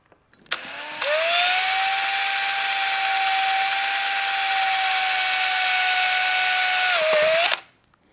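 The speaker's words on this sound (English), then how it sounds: "drill the other side to make sure that they're perfectly opposite of each other" A power drill drills a hole in a Honda Grom body panel, whining at a steady high pitch for about seven seconds, close by, then winds down and stops.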